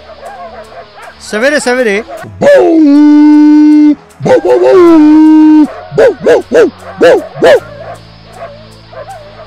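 Cartoon village dogs, voiced by performers, let out a loud run of drawn-out howls followed by several quick barks and yips, with narration spoken briefly at the start.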